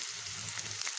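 Potatoes and cauliflower fry in a pan with other vegetables, a soft, even sizzle heard up close. Faint stirring movement runs underneath.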